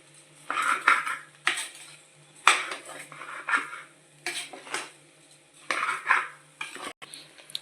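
Vegetable biryani being stirred in a pressure cooker, a metal spoon scraping and clinking against the pot in repeated close bursts, with a low steady hum underneath.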